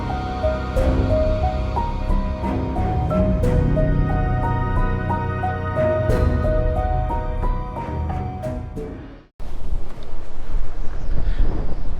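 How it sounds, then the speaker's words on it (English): Melodic background music plays, then cuts to harsh, rumbling wind buffeting the microphone on a shoreline, loud and gusty. "Like I said, it's crazy windy."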